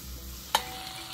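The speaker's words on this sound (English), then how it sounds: "Now we let the shallots and tofu cook." Minced shallots and tofu frying in a pan for Pad Thai, a quiet steady hiss broken by two sharp clicks of a utensil striking the pan.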